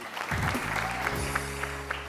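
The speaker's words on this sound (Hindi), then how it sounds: "एंड बहाज के लिए बहुत सारी तालियां।" Applause from a TV studio audience on a wedding-themed program rises quickly after a short quiet start and holds steady, dense hand claps mixed with stage music.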